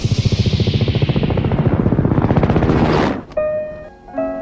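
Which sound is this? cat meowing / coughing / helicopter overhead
helicopter overhead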